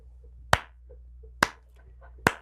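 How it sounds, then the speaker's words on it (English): Three slow, deliberate hand claps, evenly spaced nearly a second apart, each sharp and isolated against a quiet background with faint murmurs between them. "Slow clap, Ana Navarro."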